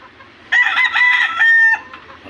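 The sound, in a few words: chickens clucking and rooster crowing in backyard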